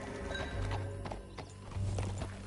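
A horse in Red Dead Redemption 2 moves along with soft, rhythmic clip-clopping hooves and a neigh, fairly quiet, with harness jingles and game ambience.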